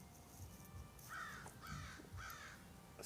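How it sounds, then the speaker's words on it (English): A crow caws three times in an even rhythm, fairly distant and faint over a steady background hiss, with no talk. "Spirit Crow Crawl, you hear him"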